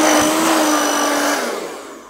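A hair dryer fitted with a nozzle blows hard and steady at close range with a whining tone, then eases off and fades toward the end, no talking over it.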